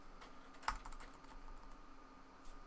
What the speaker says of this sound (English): What am I typing on? Wrong keyboard.